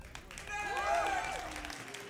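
An audience at a DreamHack StarCraft esports tournament cheers and applauds, a swelling crowd roar that peaks briefly and eases off under a caster's voice.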